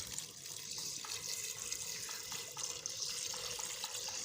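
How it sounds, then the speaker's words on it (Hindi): Water poured into a cooking pot for mutton yakhni pulao, a faint, steady running splash with small irregular drips, heard alone without talk. "अब मैं इसमें पानी डाल दूँगी"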